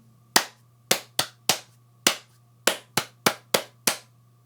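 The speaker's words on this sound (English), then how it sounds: "So if I clap that now" Nine crisp hand claps, close and loud, beaten out in an uneven rhythm of pairs and singles with short gaps, for a bass players' lesson on writing rhythms down; a low steady hum sits underneath and no one speaks.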